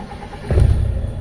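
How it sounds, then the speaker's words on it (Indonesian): A Toyota Kijang Super engine starts partway through, and its brief crank catches into a loud, low, rumbling idle close by. "Tapi ketika hidup nih kita hidupin ya."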